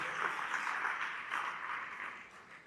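Audience applause fills a hall at an alumni mentoring event, a steady wash of many hands clapping alone with no talk, fading gradually toward the end.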